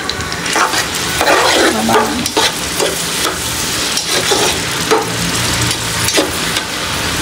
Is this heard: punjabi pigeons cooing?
no